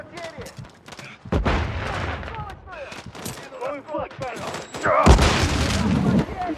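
Gunfire near a lumber mill in Call of Duty: Modern Warfare 3 brings scattered shots and heavy booms in bursts, mixed with radio chatter and voices talking over the combat.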